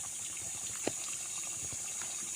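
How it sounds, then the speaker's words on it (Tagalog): Natural spring water flows beside a river in a farm lot with a soft, continuous gushing trickle, fairly faint and steady, with a single small splash partway through. "Yan ang bukal"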